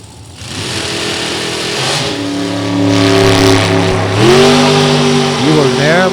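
A Miller drag race car with a Profab chassis launches and accelerates hard down the track, a loud rising engine roar with gear-like pitch shifts and a commentator talking over it.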